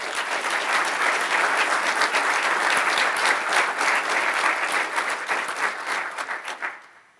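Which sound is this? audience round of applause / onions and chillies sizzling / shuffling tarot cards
audience round of applause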